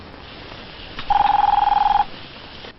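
Telephone in a hotel room rings with a steady electronic trill, one continuous burst of about a second rising out of quiet room tone, close and clear.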